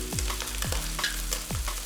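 Cabbage sizzles as it hits chicken fried rice in a hot pan, a continuous close frying hiss punctuated by three quick scraping stirs.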